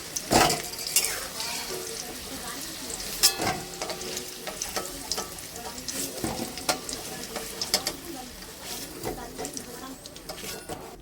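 Ash gourd dhoka pieces frying in mustard oil, a low sizzle under intermittent clinks and scrapes as the pieces are turned in the pan, with someone talking over it.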